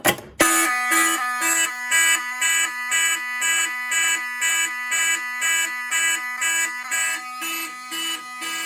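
A fire alarm horn blares in rapid repeated pulses, loud and close, continuing steadily after a brief pause at the start, during a Fire-Lite MS-9600UDLS system test.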